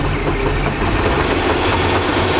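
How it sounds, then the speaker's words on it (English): Loud, steady mechanical rumble from the engine of a 1999 Chaparral 1930 SS boat that is not going fully into gear, heard close up as a continuous, rough running drone with no talking. "It's like some clunky noise. It's almost like it's not going in the gear all the way"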